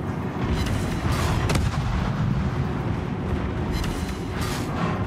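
Naval ship guns firing in World of Warships, a dense, continuous rumble of heavy cannon booms layered over one another with sharper reports near 1.5 and 4 seconds, loud and sustained throughout.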